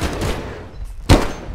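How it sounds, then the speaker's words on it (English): Fireworks in a Bigfoot-hunting video game, a low rumbling crackle followed by one sharp, loud bang that booms close by before trailing off. "Fireworks."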